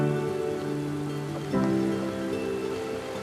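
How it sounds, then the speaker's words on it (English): Rain falls steadily as a storm blows in, a constant wash of patter with a low hum running underneath and no voices. "Just a bit of rain."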